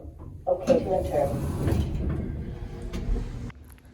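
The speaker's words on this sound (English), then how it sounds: "Doors opening. Okay to enter." A mechanical sliding rumble of automatic doors opening at West Point Foundry, close by, with a brief whoosh and clunk before it settles into quiet.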